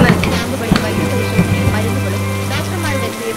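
Heavy rain patters loudly and steadily on surfaces, close and continuous, with a low sustained hum and some tonal background sound layered underneath.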